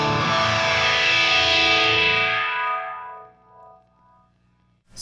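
A heavily distorted electric guitar chord through a Line 6 Helix with a Mesa/Boogie Mark V model and hall reverb rings out loud, then the reverb tail decays over about three seconds into near silence.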